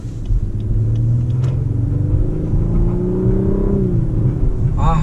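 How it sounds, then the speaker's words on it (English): Lexus LS500 accelerating in Sport Plus mode, heard from inside the cabin as a steady rising engine and intake drone that climbs in pitch and holds for several seconds over road rumble. "Now I heard there is intake sound inside the car"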